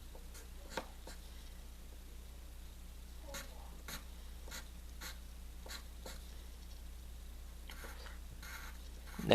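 Pencil sketching a hand on paper: a series of short, scratchy strokes at irregular intervals, soft and close, over a low steady hum, with a brief bump at the end.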